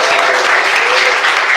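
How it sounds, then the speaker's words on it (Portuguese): Loud, dense applause from a congregation during a church service, continuous and close with no gaps. "Palmas e glória a Jesus."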